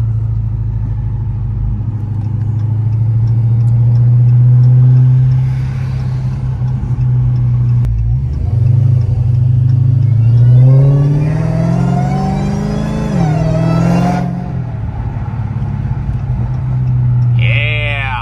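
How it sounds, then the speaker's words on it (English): A 900-wheel-horsepower Hellcat Charger drives with the window down, its engine rumbling steadily and rising in pitch through hard acceleration, with a high supercharger whine climbing over the exhaust before easing off. "Let's see if you can hear the blower a little bit more with the window down."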